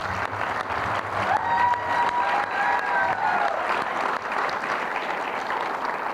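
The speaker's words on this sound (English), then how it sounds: "If you'll just give me another a round of applause for Jason" A crowd applauds steadily at an outdoor groundbreaking ceremony, sustained clapping of moderate loudness running throughout with no talk over it.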